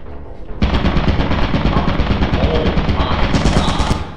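Rapid, loud automatic gunfire from a turret in the video game Lethal Company, a continuous close burst of shots that starts suddenly and runs steadily to the end.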